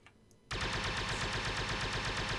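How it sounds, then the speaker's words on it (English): RT-97C machine gun in the Men of War: Assault Squad 2 Star Wars mod, kicking in after a brief quiet moment with a steady, rapid, evenly pulsed stream of loud blaster shots that continues without a break. "This is also like a machine gun."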